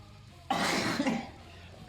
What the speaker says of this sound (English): That was like a sneeze cough.